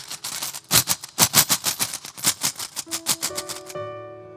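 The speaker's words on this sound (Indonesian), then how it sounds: "Di kaleng ini ada koin uang-uang." Coins rattle and clatter inside a tin can, shaken in a fast run of sharp metallic bursts that ends with a ringing metal tone, close and loud with no talking.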